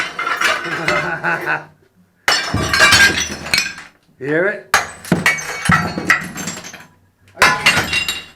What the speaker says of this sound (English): smashing apart our toilet